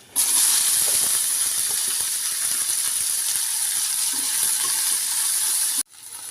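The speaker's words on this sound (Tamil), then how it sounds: "எண்ணெயிலே நல்லா வதக்கலாங்க." Loud, steady sizzling hiss of cut okra frying in hot oil, close up, with a brief break near the end before the sizzle resumes.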